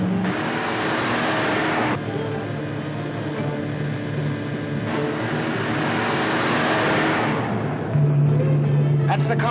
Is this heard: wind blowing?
no